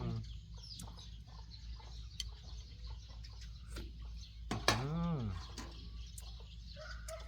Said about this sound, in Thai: เสียงไก่บ้านพี่น้องเอ้ย